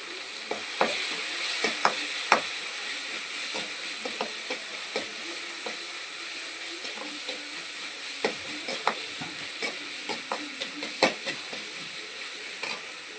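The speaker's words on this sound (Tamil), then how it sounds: "தக்காளி வதங்கட்டும்." Tomatoes sauté in a pan for a tamarind curry, giving a steady soft sizzle broken by frequent sharp clinks and scrapes of a spoon stirring against the pan, with no talking.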